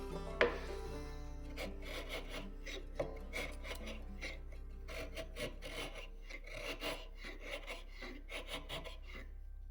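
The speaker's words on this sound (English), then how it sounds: "After sanding the base to get rid of any saw and mill marks" Sanding of a wooden base for a shoe storage bench to remove saw and mill marks, heard as steady rhythmic rasping strokes, close and moderately quiet, over a constant low hum, with no talking.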